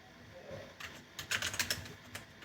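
Typing on a computer keyboard while writing code, a short burst of quick, light key clicks heard close and quiet after a brief pause.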